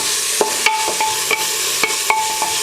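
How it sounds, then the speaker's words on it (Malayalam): Chopped onions being sautéed in oil for a home-made mandi: a spatula scrapes and stirs the pan in about seven distinct strokes over a steady low sizzle, close and moderately loud, with no voices. "നന്നായിട്ട് ഒന്ന് വഴറ്റിയെടുക്കണം ആ എണ്ണയിൽ തന്നെ."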